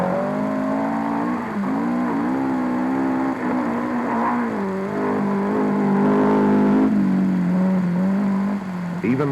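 Rally cars on the prologue stage of the New Caledonian Safari Rally pass close by, engines droning and revving steadily throughout, with talk over the top.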